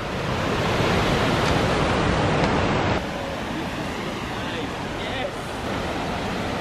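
Wind and water rush at the mouth of a river near Mostar, Bosnia and Herzegovina, on a very cold day: a steady, dense roar with gusts buffeting the microphone and no clear voices.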